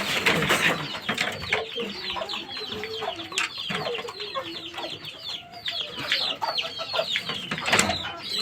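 Fighting roosters and chickens cluck and squawk repeatedly at close range, with scattered sharp calls and a brief crow-like cry among the steady chatter of fowl.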